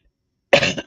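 A woman gives a single short, sharp cough, close and clear, after a moment of silence.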